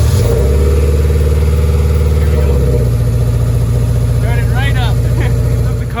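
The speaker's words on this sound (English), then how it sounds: "We're gonna try and attempt this to start it up." A K24 engine swapped into a 7th-generation car is being started, giving a loud, close, throbbing idle with rising and falling engine pitch that settles into a steady run; a few brief chirps sound near the end.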